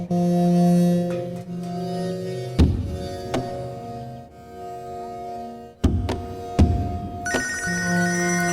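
A telephone bell rings loudly in repeated bursts, broken by a few sharp thumps and knocks.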